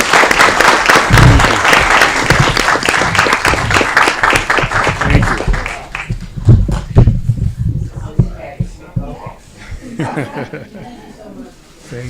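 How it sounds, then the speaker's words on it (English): Applause breaks out at a city council committee meeting, a dense burst of clapping for about six seconds that fades into scattered claps, chuckles and people talking. "Another round of applause."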